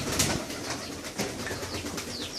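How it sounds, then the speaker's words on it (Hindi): Paired pigeons in an indoor room setup cooing and fluttering close by, soft throaty calls mixed with brief wing flaps over a steady rustling background. "ये मेरे सारे जोड़े वाले कबूतर हैं"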